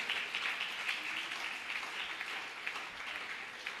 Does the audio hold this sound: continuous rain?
no